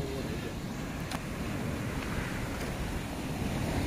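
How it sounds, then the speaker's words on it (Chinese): Big surf along a beach at Rushan Silver Beach in mid-August, a broad steady wash of waves with wind rumbling across the microphone, continuous and fairly distant-sounding. "这浪大就不适合游泳了，"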